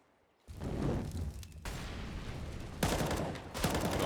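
Pistol gunfire in the video game Counter-Strike on the Inferno map, dense overlapping shots and a continuous crackling rattle of a firefight, loud and steady, no talking.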